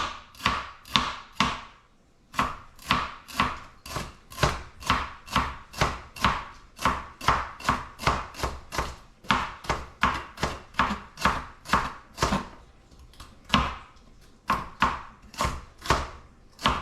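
Knife slicing boiled eggs or potatoes into thin pieces on a cutting board for egg potato salad, a long run of steady, evenly spaced close chops with two short pauses, no talk.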